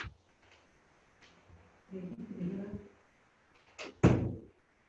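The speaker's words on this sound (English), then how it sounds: "I just closed the door so that it will not bother you" An indoor door closing in an office or meeting room: faint shuffling and muffled movement, then a sharp, fairly loud thud near the end.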